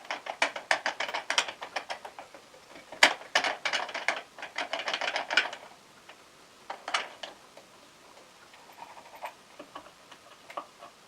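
A bearing on a router table copying tool is adjusted, producing bursts of rapid metallic ratcheting clicks and ticks, close and crisp, separated by short pauses and trailing off into sparse taps.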